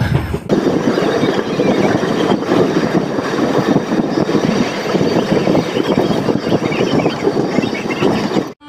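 Steady loud rumble and rattle of the Mumbai LTT Karmabhumi Express passenger train running between Hasimara and Siliguri Junction, continuous and close, as if heard from inside a carriage.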